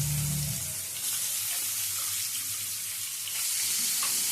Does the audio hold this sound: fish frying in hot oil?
yes